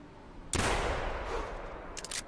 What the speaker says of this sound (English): We're going to go ahead and try to take a shot.